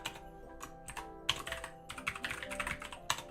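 Keys clack on a computer keyboard during a programming session, a close, fairly quiet burst of irregular taps with short pauses between runs and no talking.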